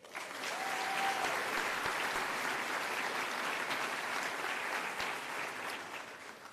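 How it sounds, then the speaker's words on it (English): Steady applause from a town hall audience on adverse childhood experiences, a dense even clatter of clapping that holds for several seconds and tapers slightly at the end, with faint voices underneath. "One more round of applause"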